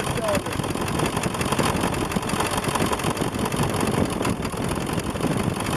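A 7.3 diesel engine with an injector misfire idles close by in a continuous dense rumble, and a voice talks over the running engine.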